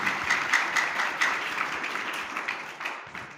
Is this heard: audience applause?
yes